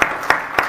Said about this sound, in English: Round of applause for Norman